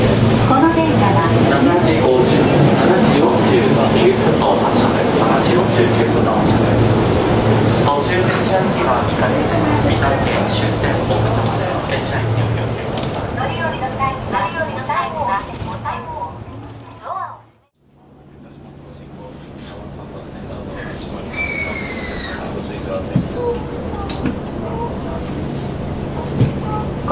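Cabin of a Chuo Line Holiday Rapid Okutama train, a steady low rumble and rolling hum under continuous onboard talk, briefly cut off by a sharp drop before the running noise resumes, with a faint high tone near the end.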